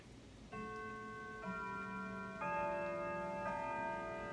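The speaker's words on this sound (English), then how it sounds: "Slowly move it up till it starts chiming." A grandfather clock chimes a slow melodic sequence of four struck notes about a second apart, each ringing on and overlapping the last, with a soft steady tick underneath, close and clear with no talk.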